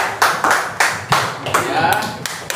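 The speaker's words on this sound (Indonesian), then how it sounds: "tepuk tangan untuk kelompok 3" A classroom applauds group 3: a short burst of uneven clapping, close and fairly loud, with a voice speaking over the claps.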